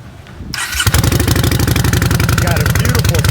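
2015 Yamaha Bolt motorcycle with a Bassani or Vance and Hines aftermarket exhaust starting up close by, then settling into a loud, even, lumpy idle with a steady pulsing beat.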